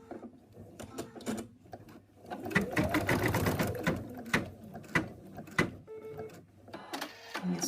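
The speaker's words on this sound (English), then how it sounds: "Okay, we're going to sew another little bit now." A sewing machine stitches a seam on a stuffed toy cat in short runs, its rapid mechanical whir starting and stopping between pauses, close and fairly loud.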